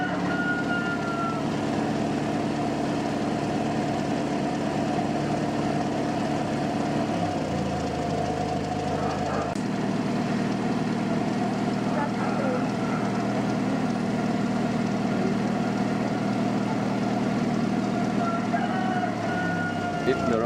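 Car engine idling steadily under the hood while the idle speed is adjusted at the distributor with a screwdriver, a constant low hum whose pitch shifts partway through as the speed changes.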